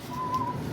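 A person whistles one clear, sustained high note while on the way to a bean field, a brief, steady tone heard alone.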